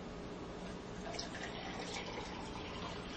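Tap water pours into a 16-ounce pint glass holding a teaspoon of baking soda, a steady, close splashing fill that runs for about three seconds with no talking.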